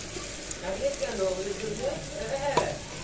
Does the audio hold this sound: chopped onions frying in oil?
yes